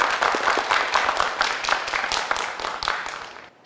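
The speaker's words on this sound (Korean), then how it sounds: "구도현 학생에게 큰 박수 부탁드립니다" An audience in a quiz show studio breaks into applause for a student contestant, a dense, steady patter of many hands that holds evenly and then fades out at the end.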